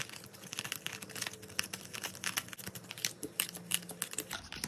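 Paper budget envelopes are shuffled and handled up close, giving a fast, busy run of soft crinkling, rustling and tapping that carries on for a few seconds with no one talking.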